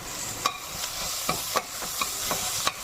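Onion, ginger, chilli and crushed garlic sauté in a pan for a pressure-cooker chicken biryani, with a continuous soft sizzle broken by about eight sharp spoon-on-pan stirring clacks spaced irregularly.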